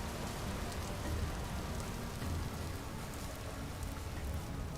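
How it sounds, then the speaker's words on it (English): Steady rain in the Vintage Story survival game falls as a dense, continuous hiss of drops on surfaces, even and enveloping with no voices over it. "It's starting to rain."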